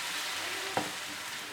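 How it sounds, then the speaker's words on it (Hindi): Ginger frying in a pan for Schezwan chutney, a steady close sizzle throughout with one brief clatter of a spoon or pan partway through. "दोनों चीज़ों को अच्छी तरह हम थोड़े भून लेंगे, ज़्यादा नहीं, सिर्फ भून लेंगे।"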